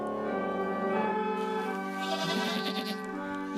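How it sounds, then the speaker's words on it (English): Goats bleat along to the Christmas carol O Come All Ye Faithful, their wavering cries layered over the steady, sustained music of the carol in a loud, continuous mix. "Yep, those are goats singing along to O Come All Ye Faithful."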